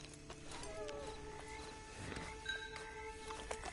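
Horse hooves clip-clop faintly in Red Dead Redemption 2, low in the mix beneath ambient game sound and tonal music, with a few louder hoof strikes toward the end.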